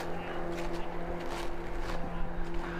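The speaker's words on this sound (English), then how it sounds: "Hear that motor, or that boat." A motorboat engine on a lake at Franz Jevne State Park hums as a faint, steady distant drone, heard along with soft footsteps on a hiking trail.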